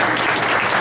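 Audience at a neighborhood association meeting breaking into applause, a dense burst of hand clapping filling a brief moment.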